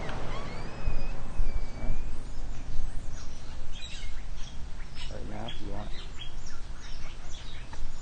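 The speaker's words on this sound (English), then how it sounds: "So let's go out into the aviary." Birds chirp and call in a walk-through aviary at Disney's Animal Kingdom, scattered bright tweets near and far, while a person talks over them.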